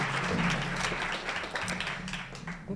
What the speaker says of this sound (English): can we have a quick round of applause for all of our panelists here?